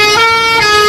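A loud basuri musical horn on a Putra Luragung intercity bus plays a steady, sustained melodic tone at close range, holding one bright pitch for the whole short burst.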